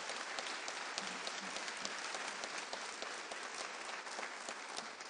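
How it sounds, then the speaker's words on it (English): Sustained applause from an audience at a Veterans Day ceremony in Phoenix honoring an honor guard and violinists, a dense, even wash of clapping that stays loud and constant throughout. "How about another round of applause for our Palo Verde Honor Guard"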